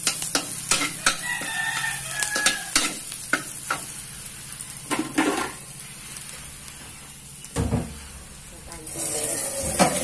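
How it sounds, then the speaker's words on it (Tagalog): Garlic sautéing in a pan for pancit guisado, a steady sizzle and frying hiss broken by repeated scraping stirs and clatter. A voice talks in the background. "pwede nagdodong daw na po ang bawang"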